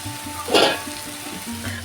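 Pointed gourd drops into hot spice masala with a loud burst of sizzling, then settles into a steady frying crackle.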